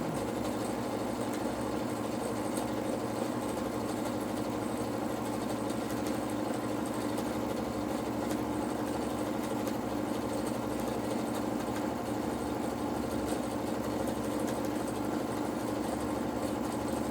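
A PFAFF Creative Ambition 640 sewing machine runs steadily during free motion stitching, a continuous close motor hum and needle drone that stays even throughout with no talking.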